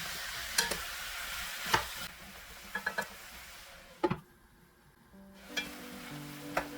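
Meat and radish stir-fry in a soup pot with water, a low sizzle broken by sharp clanks of a spoon or lid against the pot and a brief quieter stretch, close by with no voices.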